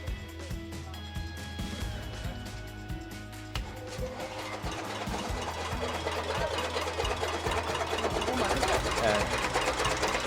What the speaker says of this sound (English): I'm having a machine here called a chaff cutter.